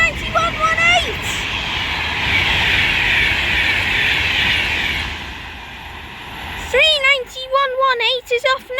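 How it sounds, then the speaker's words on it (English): An Avanti West Coast Class 390 Pendolino pulls out of Lichfield Trent Valley station, giving a sustained electric whine and rushing hiss that builds and fades, with bird chirps around it. "39118 is off now with the 1503 Avanti West Coast service to London Euston from Manchester Piccadilly"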